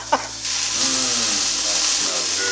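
Chuck roast searing in a Ninja Foodi, a loud close sizzle and hiss that surges after a brief knock and holds steady throughout.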